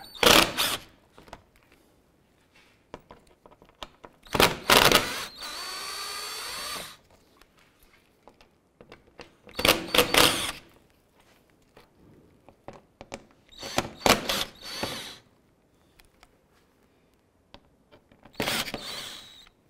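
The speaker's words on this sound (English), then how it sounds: "Underneath the bumper, we're going to go ahead and remove a series of these T25 screws." Power drill backing out T25 screws beneath the front bumper of a 2011-2018 Volkswagen Jetta, heard as several separate short, loud whirring bursts with quiet gaps between them and no talking.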